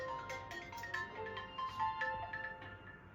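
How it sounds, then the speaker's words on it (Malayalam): A mobile phone rings with a melodic electronic ringtone, a repeating tune of bright tones heard fairly faint against a low background hum. "ഫോൺ എടുക്ക്, നോക്കാൻ എന്താന്ന്."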